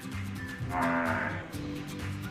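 Cattle moo loudly and close in a barn or farm pen, a couple of long drawn-out lowing calls overlapping one another, with no talk.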